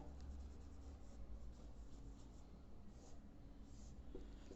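A pen or marker writes out a chemical formula, giving a faint, steady scratching and rubbing that runs the whole time against a quiet background, with no talking.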